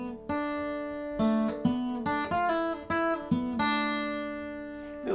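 Fingerpicked acoustic guitar plays a short melody up in the higher register, clean plucked notes ringing over sustained lower strings, a few phrases with brief gaps, soft and close, no voices.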